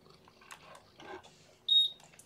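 A single short, high electronic beep sounds near the end, clear and fairly loud against a quiet indoor room with faint shuffling noises before it.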